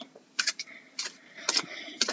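A deck of tarot cards is shuffled by hand, giving soft clicking riffles in short, uneven bursts, close and quiet with no talking.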